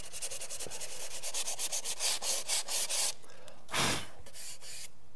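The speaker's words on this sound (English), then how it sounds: "A little sandpaper. A lot of sandpaper." Sandpaper rubs back and forth over a wooden exterior door threshold in quick rhythmic strokes, close and fairly soft, pausing briefly before one more longer scrape.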